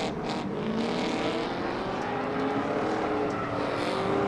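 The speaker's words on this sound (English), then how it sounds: "We got Labrosiano doing donuts, Ryder Gardner drifting, Robert Rice doing donuts." Race cars doing donuts and drifting on the Irwindale Speedway track, a continuous loud engine roar with tire noise that holds steady for the whole stretch.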